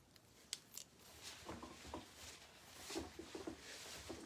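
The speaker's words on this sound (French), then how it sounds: "je vais utiliser mon ciseau Alpha" Alpha scissors snipping through hair during a short layered women's haircut, producing a few faint, brief crisp clicks scattered over a quiet salon background with soft rustling.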